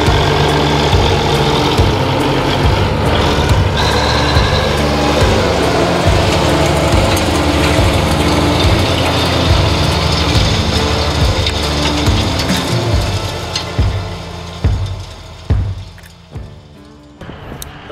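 A powerful vintage diesel tractor engine idles with a steady, low throbbing rumble, close by, then revs and knocks unevenly before settling near the end.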